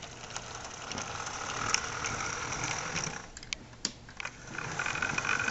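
A Daylight 4449 model train locomotive runs at a medium speed, giving off a faint, steady mechanical whir with light ticking and clicking throughout, heard alone with no talk.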